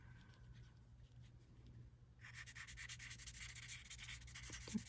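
A chisel-nib Artfinity alcohol marker colors on paper. After a quiet start it makes a steady, close, scratchy rubbing that continues to the end.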